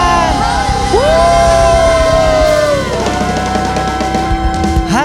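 Church congregation cheering, yelling and whooping in praise, a loud sustained crowd roar with sliding shouted voices rising over music throughout.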